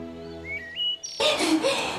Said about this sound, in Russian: О, сова!